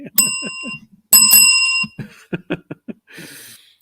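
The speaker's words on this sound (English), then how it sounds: "You get a bell, maybe two." Bell rings in two bursts of bright, sustained metallic tones with harmonics, each lasting under a second, followed by a few short taps and a soft hiss in a garage setting.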